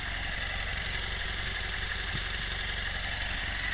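A 1964 EMPI car engine idles steadily nearby, a continuous low rumbling pulse with a fast, even firing rhythm and no voices over it.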